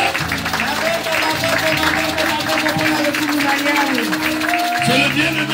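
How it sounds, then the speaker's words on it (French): A church congregation applauding and acclaiming the Lord, with sustained loud clapping and crowd cheering mixed with singing or chanting voices and music throughout. "On acclame le Seigneur"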